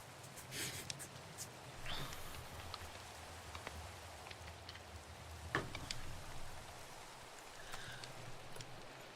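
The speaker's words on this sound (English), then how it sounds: "Oh, the rain is perfect ambiance for this" Rain falling in the Minecraft FTB Evolution modpack, a steady soft patter and hiss with a few scattered clicks and game sounds, faint and continuous.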